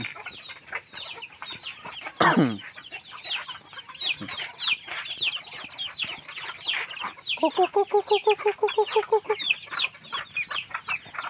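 Several chickens cluck and chatter steadily outdoors, with one bird letting out a rapid run of repeated clucks and a steady insect-like hum behind.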